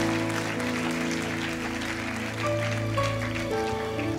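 A church congregation applauding and cheering, steady clapping and cheers at moderate distance over sustained organ or keyboard chords.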